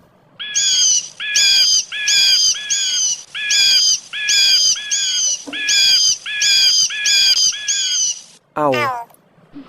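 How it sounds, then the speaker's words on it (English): An eagle calls in a run of eight or so evenly spaced, shrill, whistling chirps, loud and close, followed by a shorter, differently pitched cry at the end. "Eagle."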